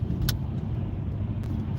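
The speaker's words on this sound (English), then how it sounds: "So this is your stop and go traffic." Stop-and-go road traffic rumbles around a car from inside the cabin, a low, steady engine and road drone with a couple of faint brief clicks over it.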